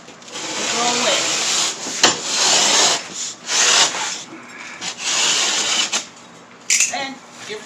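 A utility knife drags repeatedly along a drywall panel, scoring it in several rough, scratchy strokes of a second or so each, close and fairly loud, with short pauses between passes.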